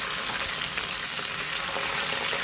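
Spicy Kerala-style fish frying in a pan without cornflour or maida coating, a steady, dense sizzle of hot oil that holds close and even throughout with no voices.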